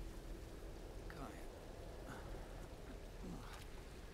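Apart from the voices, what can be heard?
rain falling in video game Tomb Raider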